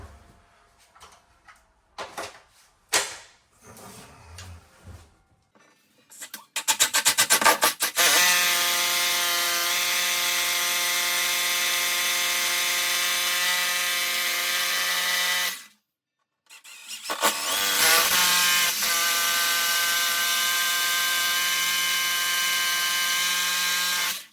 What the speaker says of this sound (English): then we're ready to drill